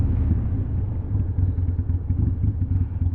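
A 2016 Harley-Davidson Sportster Super Low motorcycle rumbles steadily with a deep, loud low-end throb, heard close up and alone for about three seconds.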